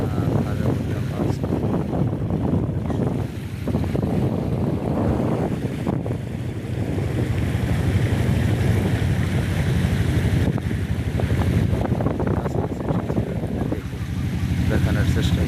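A fishing boat moves along a riverbank, its steady engine and water rumble mixed with gusting wind noise across the microphone, broken by occasional voices from people aboard.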